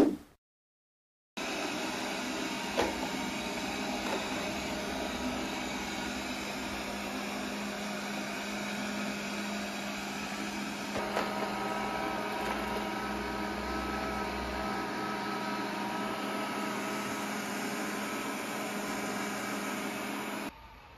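A Honiture Q6 Lite robot vacuum hums steadily at close range, an even whirring drone that holds for about twenty seconds after a brief silence at the start.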